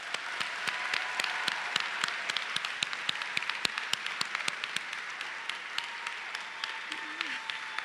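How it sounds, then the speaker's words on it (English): Audience applause at a Penn State Dickinson Law commencement ceremony in Carlisle, a steady dense wash of clapping from a large crowd with sharp individual claps standing out, sustained throughout. "please join me in applauding this exceptional group of Penn State learners"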